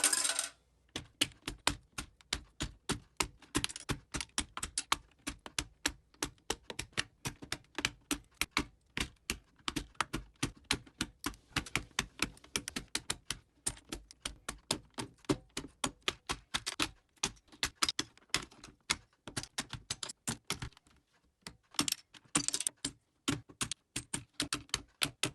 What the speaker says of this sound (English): we're going to pull off all of the keycaps on the keyboard, and here is a montage showing just that